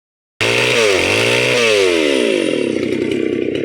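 A chainsaw starts suddenly and runs loudly and close, its engine revving up and down as it cuts, then holding a steady high whine with no voices over it.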